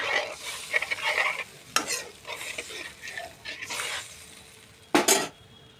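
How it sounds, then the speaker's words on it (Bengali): Water poured into a pan of rohu fish curry (rui macher jhal) sets off bursts of hissing sizzle alongside stirring scrapes, and near the end a loud, sharp clatter of utensil against the pan. "তারপর দিয়ে দেব জল আমি জল একটু বেশি দিয়ে দিলাম"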